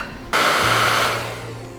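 A hair dryer warming body oils during a car interior restoration switches on abruptly and blows with a loud, steady whoosh and a low motor hum, easing slightly toward the end.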